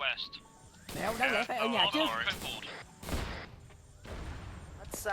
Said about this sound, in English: They shot a rocket up to their position